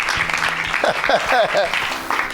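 A church congregation claps in a steady wash of applause beneath a voice speaking over it.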